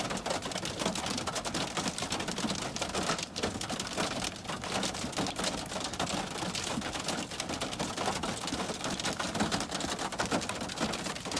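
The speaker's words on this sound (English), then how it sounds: "Hear the hail pounding his car right now." Hail pounds steadily on a car during a severe spring thunderstorm with a tornado outbreak, a dense, continuous rattle of impacts heard from inside the vehicle with no voices.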